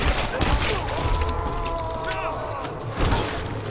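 Bursts of gunfire from a Tomb Raider firefight, with a few sharp cracks early on and again near the end, set under ongoing game noise and a player's excited talk.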